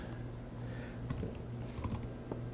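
Quick bursts of keystrokes on a computer keyboard, a few clustered taps and clicks over a low steady hum, close and fairly quiet with no talking.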